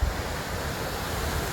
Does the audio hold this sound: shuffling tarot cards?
no